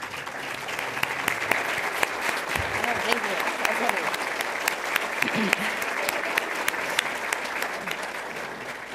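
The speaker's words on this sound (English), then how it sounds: "so we can give you a warm round of applause" A banquet audience at a Red Cross awards dinner gives a sustained round of applause. Many hands clap steadily and evenly for the whole stretch, and faint voices can be heard under the clapping.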